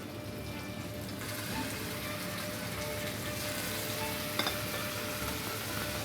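Large-cut pieces of meat sizzle in hot oil in a pan, a steady, even frying hiss that runs the whole time with no voices.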